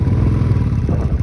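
A motorcycle engine on a ride through snowfall on the Chang La pass in Ladakh, heard as a loud, close, continuous low rumble with rapid throbbing pulses.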